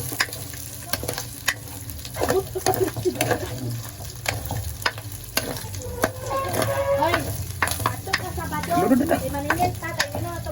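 Fish sizzling and spitting loudly in a pan as its oil renders out, a dense close crackle with sharp pops and scraping stir sounds throughout; a voice speaks faintly at moments.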